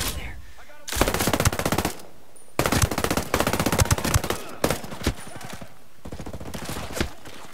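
Machine gun fire in the video game Ghost Recon Breakpoint, several loud rapid bursts of automatic shots separated by short pauses, the strings of rounds ringing close and dense.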